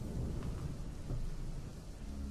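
Steady rain with low rumbling thunder from an anime episode, a continuous dense wash of rainfall with deep rolling rumbles underneath, loud and close throughout with no voices.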